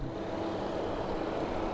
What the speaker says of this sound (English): Got traffic, and you've got diggers